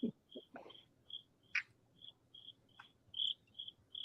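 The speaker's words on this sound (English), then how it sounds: "The crickets are really setting the mood, Ty's saying." Crickets chirp in a steady, evenly spaced rhythm at night, with a few low knocks and thumps scattered among the calls.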